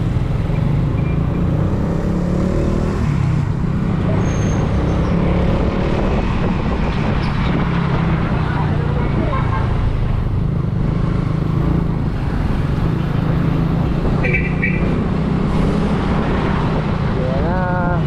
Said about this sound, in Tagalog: Medyo traffic lang talaga dito sa bayan.